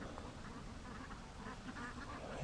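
Free range ducks quack steadily at a moderate distance, a run of repeated nasal calls overlapping through the whole stretch against a constant outdoor background hiss.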